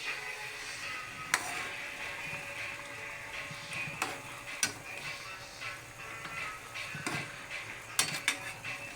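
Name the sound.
stirring food in a cooking pot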